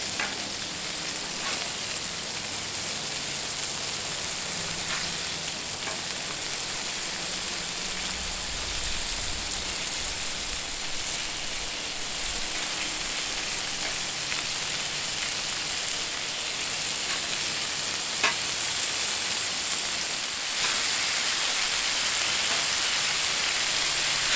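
Bacon-wrapped steak bites sizzle steadily on a Blackstone griddle, a loud, close, unbroken crackling hiss with faint pops and no talking.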